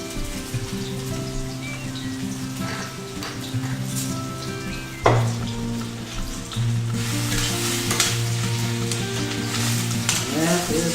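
Chicken cutlets, lightly seasoned with salt and pepper, sizzle steadily while frying golden brown in a pan for chicken piccata, with a sharp burst of crackling midway and continuous hiss throughout, close and fairly loud.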